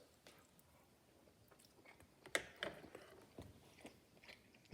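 Someone chewing a bite of sauced, smoked meat cooked on a Z-Grills Cruiser 200A portable pellet grill, quiet wet crunches and mouth sounds close up, with a louder bite midway and no talking.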